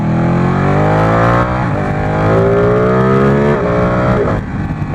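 Ducati 848 or 1098 sport motorcycle engine revving loudly and continuously nearby, pitch climbing in long sweeps and dropping briefly between pulls.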